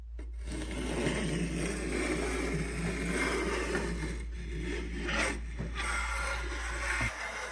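A Buck Brothers hand tool shapes a 45-degree bevel on wood, making repeated close rasping, scraping strokes that run almost continuously, with a few brief breaks between passes.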